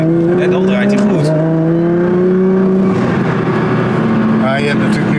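Nissan GT-R tuned to about 1400 hp revving under throttle, its engine note holding a steady pitch and rising in stages, close and loud, with people talking over it.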